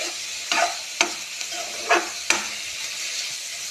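Ingredients stirred together in a cooking pan, a spoon scraping in four or five distinct strokes over a low sizzle, close and fairly clear with no talking.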